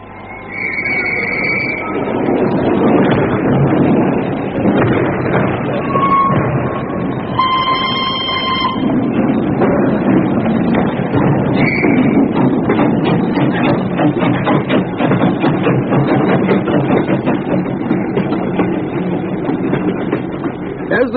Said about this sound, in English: As the train sped out of Paddington